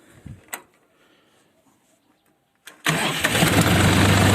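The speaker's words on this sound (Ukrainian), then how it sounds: "На старому замку все заводиться, все дерчить, все гурчить." An old car with a worn original ignition lock cranks briefly after a couple of faint clicks and quiet moments, then fires up loudly into a steady, rough-running idle close by.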